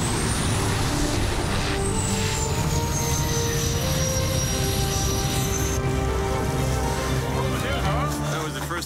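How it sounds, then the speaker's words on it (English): Bush plane landing on snow in a remote northern ice-fishing setting, a loud continuous engine drone with a gliding whine as it comes down, voices faintly underneath. "That was the first time I see a plane landing on snow."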